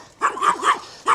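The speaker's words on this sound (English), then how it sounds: "This little dog." A small dog gives a quick series of high, yappy barks, three close together and then one more after a short pause, near and clear with nothing else around them.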